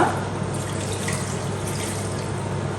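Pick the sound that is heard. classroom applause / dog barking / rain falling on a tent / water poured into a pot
water poured into a pot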